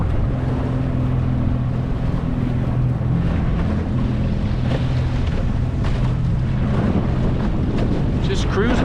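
A boat motoring among icebergs in Iceberg Alley sends out a steady, loud engine drone, mixed with constant wind rushing over the microphone.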